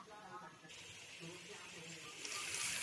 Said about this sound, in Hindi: ब्लेंडर के अंदर जो थोड़ा सा लगा रह गया है उसी के अंदर मैं थोड़ा पानी डालकर इसको भी इस्तेमाल कर लूँगी